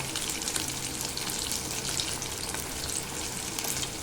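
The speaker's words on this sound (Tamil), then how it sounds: "நம்ம பொறிச்சு எடுத்துக்க போகிறோம் இதாங்க லாஸ்ட் ரவுண்டு எல்லா மீனையுமே நம்ம இதில் போட்டாச்சு" Vanjaram fish pieces deep-frying in hot oil, a steady dense sizzle and crackle running throughout, close by and even in level, with no talking.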